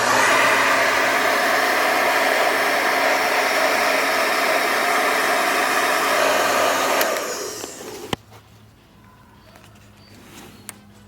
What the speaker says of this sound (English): So I don't have a heat gun, so I'm just going to be using this fan